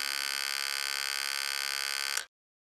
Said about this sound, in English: When the switch is closed, the buzzer produces sound.